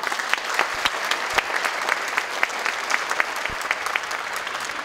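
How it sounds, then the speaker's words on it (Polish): An audience applauds a folk dance ensemble with choirs after a Krakowiak performance at a Polish dance concert; steady crowd clapping with sharp individual claps fills the whole stretch. "Wielkie brawa!"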